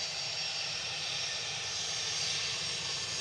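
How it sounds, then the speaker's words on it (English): A Boeing 737-800 jet roars steadily while departing Manchester Airport, a broad, constant engine rumble heard from a distance with no talk over it. "This is GRUKH departing 737-800."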